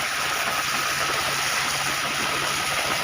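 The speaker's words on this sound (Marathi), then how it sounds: "बघा हे पाणी किती प्रेशरनं चाललंय" Pipeline water from a village supply scheme, diverted to a farm, gushes out under strong pressure as a loud, steady roar that fills the clip without a break.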